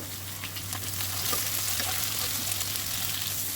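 Small-cut eggplant pieces frying in hot oil with salt, a steady close crackling sizzle with faint bubbling, continuous and even, with no one talking.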